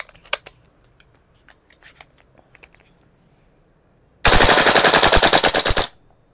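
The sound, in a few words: VFC MK16 URGI gas blowback airsoft rifle firing full auto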